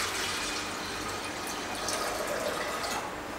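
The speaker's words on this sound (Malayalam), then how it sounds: "ഇനി നമുക്ക് ഈ പരിപ്പിന് ആവശ്യമായിട്ടുള്ള വെള്ളം ഒഴിക്കണം." Water is poured steadily into a pressure cooker over lentils for a Kannur-style sambar. A soft, continuous splashing fill is heard close by, alone and without talk.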